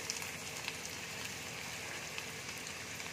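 Chopped onion frying in hot mustard oil for a coconut fish curry, a steady, even sizzle with faint crackles, moderately quiet and without voices.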